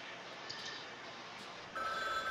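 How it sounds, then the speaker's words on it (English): A telephone starts ringing in the video game Frog Detective, a bright electronic ring that begins near the end over a quiet background hum, with no talking. "phone is ringing"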